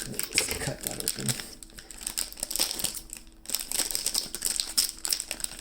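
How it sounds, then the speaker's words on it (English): A plastic-wrapped Mandalorian mystery mini figure package is cut open, with steady close crinkling and rustling of plastic, crackling in uneven bursts and a brief pause midway. "Let's cut that open."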